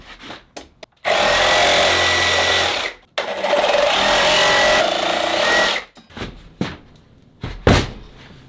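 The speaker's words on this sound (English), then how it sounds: "Now I'll cut it out with the Sawzall." A Sawzall reciprocating saw cuts through wood for a homemade dumbbell rack in two loud, buzzing bursts of about two seconds each, followed by scattered knocks and clatter of wood being handled.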